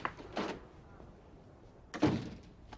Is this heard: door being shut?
yes